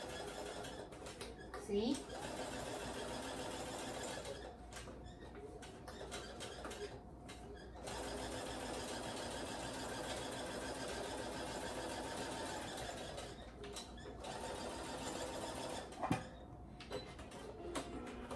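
A 53-year-old Elgin sewing machine stitches in a steady, continuous mechanical whir throughout, with a few brief clicks and voices talking over it.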